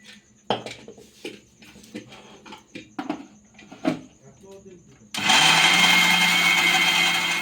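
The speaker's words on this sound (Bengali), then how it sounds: "আরেকবার আমি মিক্সিটা ঘুরে দেবো।" Mixer grinder running with raw rice and nuts for making sandesh, starting suddenly after a few seconds of kitchen clatter and someone talking, then a loud, steady whir that fills the rest of the clip.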